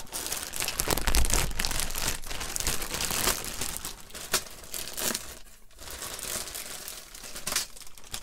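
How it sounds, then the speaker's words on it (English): Crinkly plastic bags being handled inside the box of a Revell 1958 Corvette Roadster model kit, continuous loud crackling and rustling close up with sharp crunchy bursts and brief lulls. "to get rid of the crinkly bags next time"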